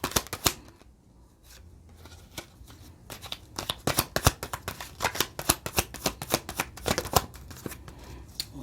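Tarot cards shuffle and snap down in quick, crisp flicks, faint at first and then a dense run of close riffling bursts, with no talking.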